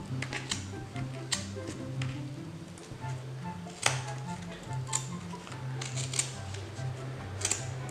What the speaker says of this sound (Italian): infilate la punta delle forbici e tagliate